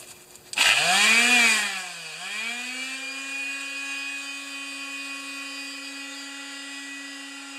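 A Homelite XP1020 chainsaw rips into a loud, high rev from the pull start and then drops back to a steady, buzzing idle that holds close by with no one speaking.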